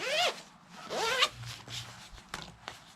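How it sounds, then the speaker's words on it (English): Zipper on a lightweight heated vest being run up and down in two quick rising zips, then softer rustling and a couple of small clicks of the fabric, close and fairly quiet. "Zipper."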